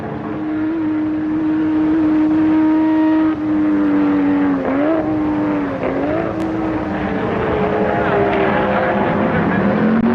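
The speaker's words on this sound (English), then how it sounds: "Gerhard Mitter moves the Porsche out front." A Porsche race car engine drones at the 1969 Sebring 12 Hours, a sustained mid-pitched roar that shifts gears and dips briefly before climbing again, with a commentator talking over it.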